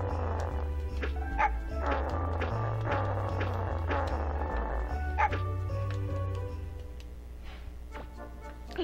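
A dog barks in the video game Megaman 64, several short yips and barks over continuous background game music.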